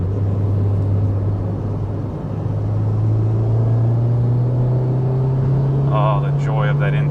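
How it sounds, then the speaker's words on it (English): Steady engine drone with a rising note from a JDM ITR B18C engine swapped into a 2000 Honda Civic Si, heard from inside as it drives, with road rumble beneath and a voice briefly speaking near the end. "Oh, the joy of that intake sound."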